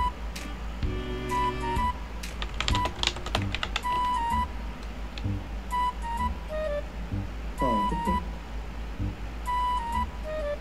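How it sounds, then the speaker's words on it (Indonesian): Computer keyboard typing during a video chat, a long run of close, rapid keystrokes in uneven bursts, with faint electronic tones and chimes sounding in the background. "Kok ngetik?"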